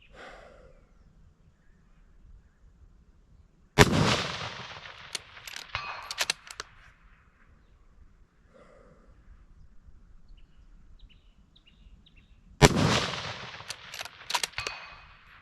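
Two sharp, loud rifle shots ring out several seconds apart over an outdoor range with steel targets. Each is followed by short, faint clanks and rattles, with quiet breathing and background stillness in between.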